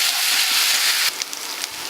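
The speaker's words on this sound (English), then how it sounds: "Now we'll add ginger garlic paste to it and saute it properly till the raw aroma goes." Ginger garlic paste sautés in a hot pan with a loud, steady sizzle that drops a little in strength partway through, with small crackles and pops and no talking.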